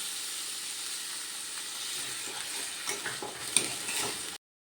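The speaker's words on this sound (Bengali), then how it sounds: "এরপর আমি দিয়ে দিচ্ছি জল" Water is poured into spiced potato masala frying in a pan for fig kofta curry, setting off a loud steady sizzle and hiss. Scraping stir strokes and a few clinks come through before the sound cuts out.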